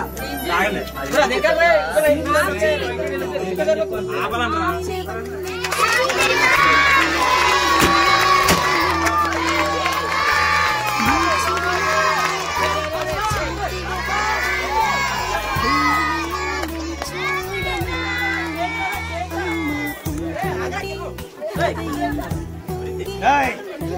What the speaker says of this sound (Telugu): అందరూ ఒకటేసారి క్లాప్స్ కొడుతూ గట్టిగా హ్యాపీ బర్త్డే చెప్పడం